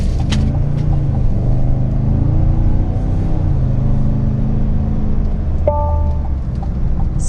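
Inside a 2021 Cadillac Escalade ESV on the road, a low steady engine and road rumble hums throughout, with a brief soft chime near the end.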